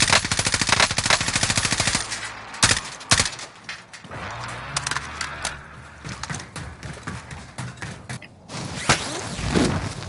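M4 rifle fire in Call of Duty Warzone, rapid automatic bursts with sharp cracks and thuds, loud and close, broken by short pauses and a few scattered single shots.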